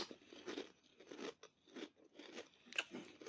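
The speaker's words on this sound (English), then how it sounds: "let's have a bite." Several crisp bites and chews on crunchy barbecue lentil chips, close and fairly quiet, coming in an irregular rhythm of sharp crunches with no talking.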